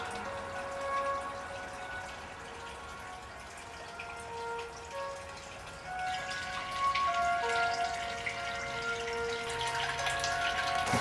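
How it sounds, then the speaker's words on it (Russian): Babbling water flows steadily underground in a tunnel, a continuous trickling and gurgling that grows slightly louder and splashier toward the end, heard alone without talk. "Слышишь? Журчит там."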